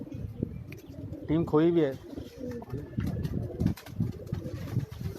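Pigeons coo on a Karachi rooftop, a short run of throaty rolling coos close by, heard amid people talking and general rooftop noise.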